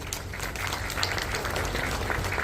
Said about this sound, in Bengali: তার জন্য একটা জোরে হাততালি চাইব।